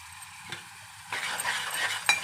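Goat liver fry being stirred with salt in a pan, Telangana style: a quiet stretch gives way to scraping and sizzling that grows louder midway, with a sharp utensil clink near the end.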